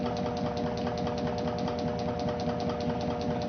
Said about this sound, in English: the generator back EMF is causing the system to slow down